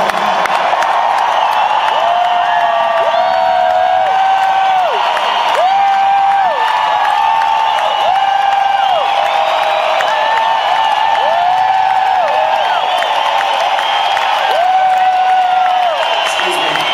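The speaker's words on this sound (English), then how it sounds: "Noisy crowd." A large crowd at a concert in Coimbra, Portugal roars loudly throughout, with massed voices chanting a repeated sung phrase in a steady rhythm over continuous cheering.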